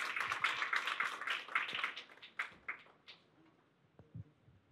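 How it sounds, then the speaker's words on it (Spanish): An audience claps for a moderator at an academic panel discussion on education, a faint, dense patter of applause that thins into scattered last claps and fades out within a few seconds. "Le brindamos un aplauso de agradecimiento"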